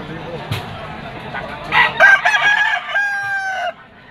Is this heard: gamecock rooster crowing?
yes